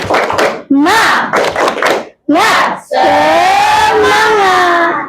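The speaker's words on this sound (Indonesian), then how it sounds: "kita tepuk semangat dulu yuk" A school class chants an Indonesian 'tepuk semangat' clapping cheer, with loud group voices in short rhythmic bursts and claps, ending in a longer sustained shout.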